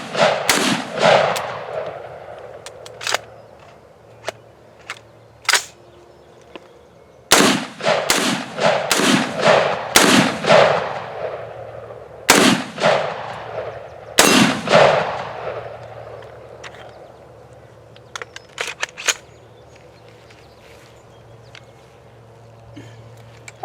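Gunshots fired at homemade sonic boom targets outdoors, loud sharp reports in rapid clusters with short ringing echoes, separated by pauses, followed by quieter handling sounds.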